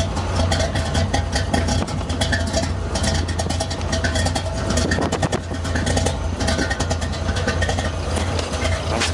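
A 1964 Chevrolet Corvette roadster's engine runs steadily through long tube headers, a continuous close, loud rumble with a deep low-end drone and no talk over it.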